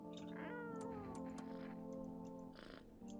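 Cat meowing in the video game No, I'm Not a Human: a long drawn-out meow followed by a shorter second cry, close and clear against a quiet background.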